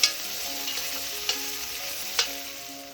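Mirepoix sweating in a pan for braised lamb gives a soft, steady sizzle, punctuated by a few sharp clicks of stirring spoon against the pan.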